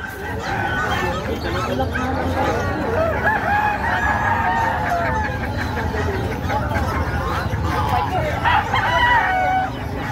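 Roosters crow repeatedly at a crowded game fowl expo in a Bocaue pet market, several cock-a-doodle-doos rising over steady crowd babble and background clucking, with people talking throughout.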